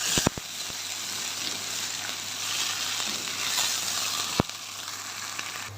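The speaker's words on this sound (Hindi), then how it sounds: "टमाटर को हम अच्छी तरह से फ्राई करेंगे।" Tomatoes frying in a pan for chicken karahi sizzle steadily and close by, with a few sharp clinks of a spoon or utensil near the start and once more later, and no talk.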